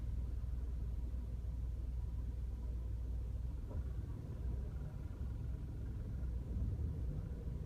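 A Toyota Tacoma TRD idles in a Dairy Queen drive-through line, its engine giving a low, steady rumble inside the cab with no talking.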